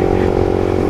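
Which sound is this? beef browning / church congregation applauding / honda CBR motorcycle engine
honda CBR motorcycle engine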